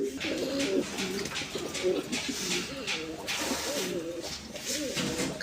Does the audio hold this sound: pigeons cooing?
yes